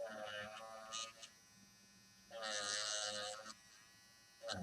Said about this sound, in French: avec une gomme électrique, je vais venir